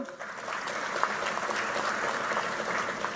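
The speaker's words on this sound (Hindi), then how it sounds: "कलिता जी के लिए ताली बजाओ जरा" Audience at a political rally in Ausgram, Bengal, clapping for a candidate: a steady, dense wash of applause held throughout, with a few sharper claps standing out.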